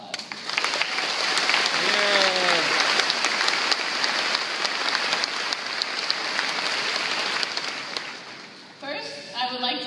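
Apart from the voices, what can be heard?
graduation audience round of applause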